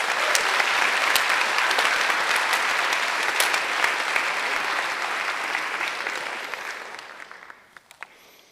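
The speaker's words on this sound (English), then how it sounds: "Please give a big round of applause for all award recipients for the awarding organizations." Sustained applause from an audience honoring award recipients at a high school senior awards night, dense steady clapping that holds for several seconds, then tapers off into scattered final claps.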